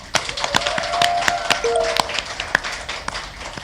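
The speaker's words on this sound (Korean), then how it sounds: "여러분의 힘찬 박수와 함께 시작하겠습니다." A small studio audience at the opening of a Korean current-affairs talk show gives sparse, uneven claps, distinct sharp slaps spread across the moment rather than a full roar, with a faint tonal sound running beneath.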